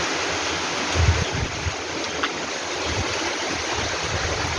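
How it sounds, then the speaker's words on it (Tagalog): Heavy rain from a typhoon pours in a dense, steady hiss, close and loud, with occasional low thumps of strong wind. "Pag ganito kalakas yung ulan."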